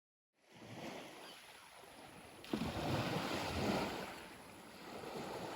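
Low, rushing seashore ambience at low tide with gusting wind buffeting the microphone and a wash of surf swelling midway, steady and fairly quiet.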